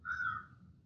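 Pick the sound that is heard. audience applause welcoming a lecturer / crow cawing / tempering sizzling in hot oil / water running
crow cawing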